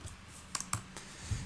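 Several quick clicks on a computer keyboard, a short burst of a few keystrokes with small pauses between them, close and fairly quiet.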